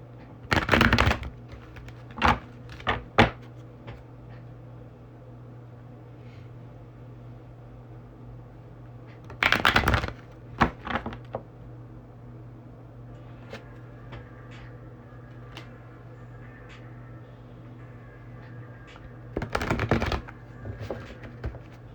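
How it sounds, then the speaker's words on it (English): A tarot card deck is shuffled in three separate quick riffling bursts spaced several seconds apart, crisp and close, with a steady low hum and faint handling sounds between them and no talking. "I literally shuffled it and the card flung out"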